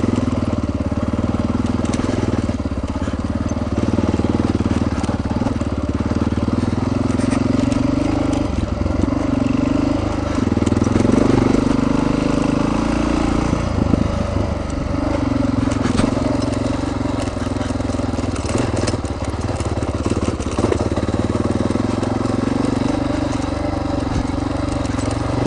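Motorcycle with plenty of torque climbing a forest road trail near Meeker, Colorado; a steady, loud engine drone with rising and falling revs and rumbling, continuous throughout.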